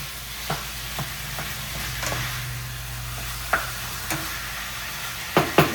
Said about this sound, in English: So now we're going to add in our beef. I'm just going to break that up and cook it until it's browned.